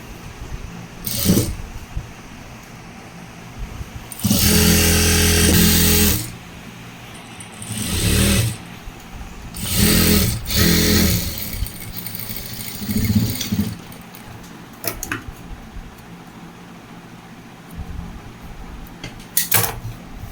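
A sewing machine stitching the folded hem of a uniform frock, loud whirring runs of a few seconds each, separated by pauses and short bursts, with no one talking.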